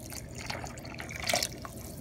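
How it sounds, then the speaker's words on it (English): Eight cups of water poured into a pot of fideo soup in a home kitchen, a close, steady splashing and trickling stream with a brief louder gush near the end, no talking. "I'm going to take 8 cups of water and add them to my pot"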